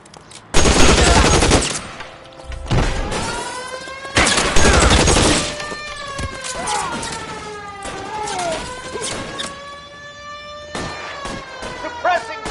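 LA Noire firefight: loud bursts of rapid automatic gunfire crack out in several separated volleys, interleaved with shouted voices and fainter scattered shots between the bursts.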